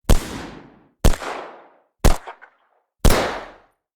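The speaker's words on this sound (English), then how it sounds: "You will hear the same initial, very short bang, followed by the reflections from different environments." Four separate sharp bangs arrive about a second apart, each followed by a reverberant tail whose length and colour change as it reflects off a different environment.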